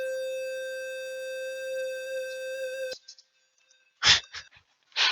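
A steady synth tone with stacked bright harmonics, played from a simple online music tool, pans between left and right. It holds for about three seconds, then breaks off, and a few short bright bursts follow with no talking.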